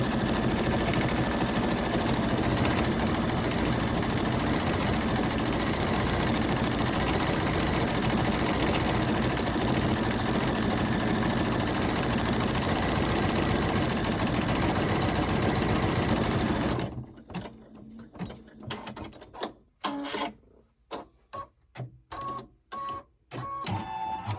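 A machine embroidery unit stitches a vaccination card holder design with a loud, steady mechanical whir for most of the stretch, then breaks into stop-start bursts and pauses near the end.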